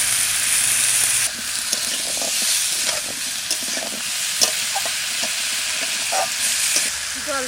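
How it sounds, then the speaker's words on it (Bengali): Pumpkin pieces fry in a little oil in a village kitchen, a loud continuous sizzle and hiss with occasional stirring clinks, close up. "ওই তেলের মধ্যে আমি কুমড়ো কটা দিয়ে দেবো। অল্প তেলে রান্না করবো"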